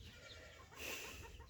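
Chickens cluck softly nearby on a small farm, a few short murmured clucks with one brighter, louder call in the middle, heard alone and fairly faint.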